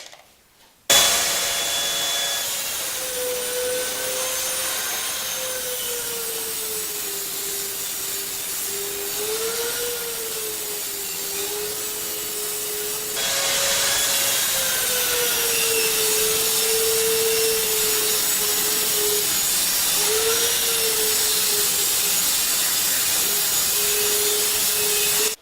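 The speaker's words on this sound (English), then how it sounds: "I'll just plane them down." An electric planer runs continuously while planing wood boards for a TV stand, a steady loud motor whine with a slightly wavering pitch that grows a bit louder partway through; no speech.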